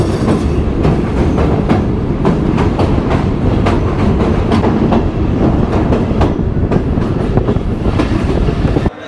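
A heavily crowded local passenger train in Kushtia, Bangladesh, rumbles along loudly and close, with a dense steady roar and repeated rail clicks throughout, and no voices.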